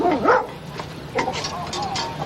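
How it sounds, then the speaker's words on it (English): Dog barking during a Las Vegas police call, a few short yips and barks close by, mixed with people talking. "Hey, puppy."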